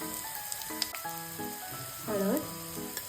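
Garlic, green chili and curry leaves sizzle in hot oil as asafoetida goes in, a soft continuous frying hiss with small crackles, under quiet background music.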